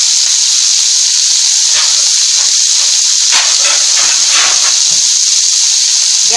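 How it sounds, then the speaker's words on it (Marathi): A steady loud hiss and sizzle comes from onions roasting with rock salt in a covered pan over the gas, with faint clinks and rustles underneath and no speech. "आता हे कांदा आपण चांगला भाजून घ्यायचा, थोडं मीठ टाकायचं, खडे मीठ टाकायचं थोडंसं।"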